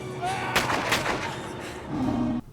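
Gunfire in the creature film Yeti: Curse of the Snow Demon, heard as a few sharp shots over a dense action soundtrack, moderately loud, ending abruptly.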